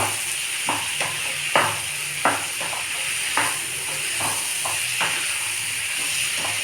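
Cluster bean pieces sizzle as they go into a pan of frying tomatoes, a steady hiss broken by repeated scraping and stirring knocks from a spoon, close and clear with no talking.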